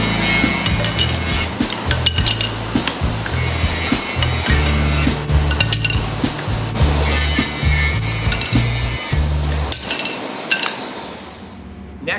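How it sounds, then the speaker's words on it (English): Pine pieces are ripped down the middle on a table saw, giving a loud, sustained cutting whine with rhythmic pulses as the wood feeds through, then the blade spins down near the end. "Then I set the table saw at 2 5/8 and cut the pieces of pine right down the middle."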